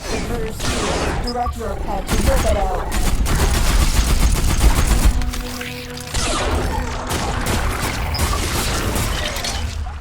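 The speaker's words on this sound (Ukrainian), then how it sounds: "У першій місії це пушка хижака" A predator cannon module firing in the shooter game Ripout: sustained loud bursts of heavy gunfire with booming impacts and crashes, briefly dropping out about midway before the barrage resumes.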